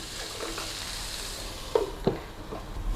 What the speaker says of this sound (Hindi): वेजिटेबल्स को फ्राई होते हुए 20 मिनट हो चुके हैं